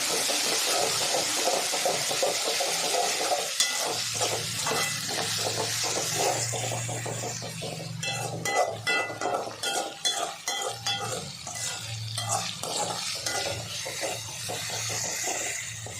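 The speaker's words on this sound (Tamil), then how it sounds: "பச்சை வாசம் போகிற அளவுக்கு நல்லா வதக்கிடுவோம்." Ginger garlic paste sautéing in a pan for a chicken gravy, with a steady, continuous sizzle and stirring scrapes throughout, fairly loud and close, with no talk.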